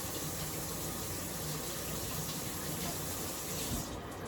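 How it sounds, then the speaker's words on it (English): Dirty vegetables rinsed under a running kitchen tap: a steady, even rush of water throughout, with no one talking. "We'll wash it off. Rinse it off."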